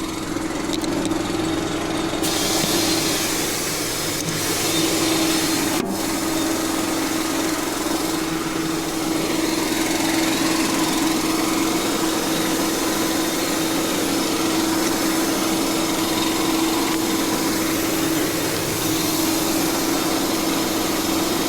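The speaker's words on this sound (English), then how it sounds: "let's air up that driver's side tire" An air compressor inflates a car's driver's side tire with a continuous, steady motor drone, loud and close, with no talking.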